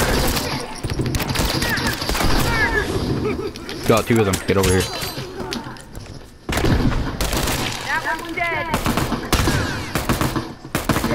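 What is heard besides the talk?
gunshots in The Last of Us multiplayer video game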